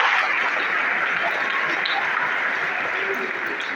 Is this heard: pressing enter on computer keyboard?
no